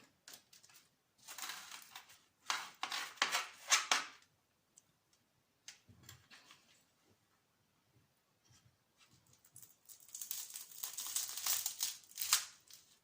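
Slow knife strokes cut through layered mille-feuille pastry, making two clusters of close, crisp crackling crunches separated by a quieter stretch with faint scraping.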